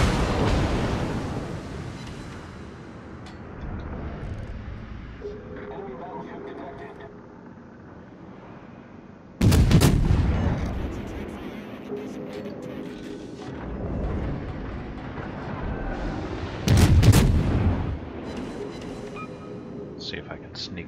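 Heavy naval gunfire from the cruiser USS Marblehead in a naval warship game, with two loud booming salvos standing out over a continuous rumbling battle bed of engine and distant fire.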